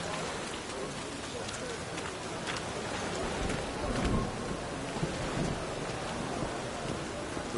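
Rain and thunder in the video game The Witcher 3: a continuous, close rainfall hiss with low rolling thunder swelling in the middle, steady throughout.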